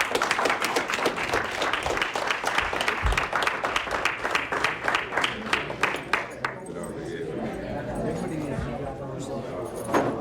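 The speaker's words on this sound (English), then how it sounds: "let's just kind of give you a round of applause." An audience at a prison dog training programme gives a round of applause, brisk clapping that tails off after about six seconds, with speech heard alongside it.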